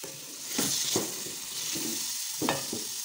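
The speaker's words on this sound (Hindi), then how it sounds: "अब हमने पहले इनको अच्छी तरह फ्राई कर लेना है," Potatoes and peas frying in a pan, a steady close sizzle broken by several sharp scrapes and stirs of the spoon.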